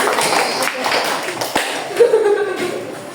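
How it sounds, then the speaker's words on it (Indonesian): A classroom of students claps for group 3, a dense wash of hand claps with chuckles and chatter mixed in, steady and fairly close throughout. "Tepuk tangan untuk kelompok 3"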